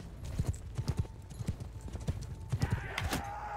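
Horse archers gallop in the Mount & Blade: Bannerlord game, a rapid, irregular patter of many hooves close by, with battle noise swelling and a horse whinny near the end.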